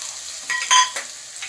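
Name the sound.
spices stirred and frying in pan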